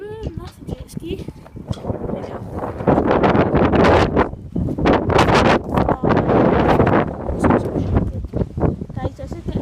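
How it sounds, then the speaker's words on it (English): Strong wind buffets the microphone at Loch Lomond while riding a jet ski, a loud continuous rushing roar that surges and dips under a voice talking throughout. "Guys, this is getting windy"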